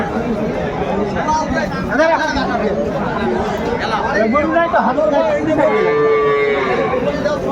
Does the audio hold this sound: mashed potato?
no